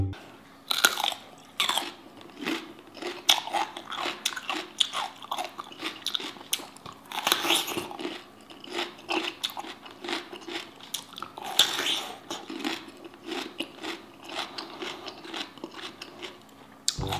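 Someone bites and chews a short, thick cucumber up close, giving repeated wet crunches and juicy chewing in an uneven rhythm, with no talking.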